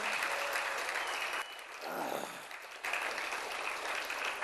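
An audience claps at an academy's victory celebration in a hall, a dense continuous burst of applause that dips briefly in the middle and then swells again.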